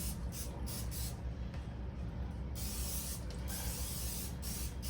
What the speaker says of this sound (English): all I'm going to use today is just some spray on butter flavored